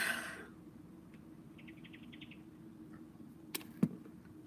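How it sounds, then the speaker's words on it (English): A faint, high, rapid series of whistling chirps like a small bird, brief and distant, in a quiet room with low background hum and a couple of soft clicks afterward. "It sounds like a little bird whistling."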